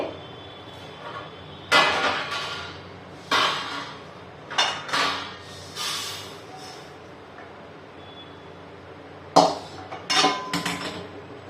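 Roasted millet is scraped and tipped onto a metal plate in several separate bursts, with clinking and rattling between quieter pauses.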